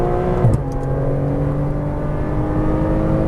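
A Porsche Cayman R sports car engine accelerates and shifts up, holding a steady, sustained drone with a brief shift in pitch early on, loud and continuous throughout.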